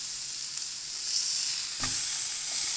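Steak sizzling on a hot griddle plate in a kitchen, a steady close hiss of frying fat with a brief soft bump partway through.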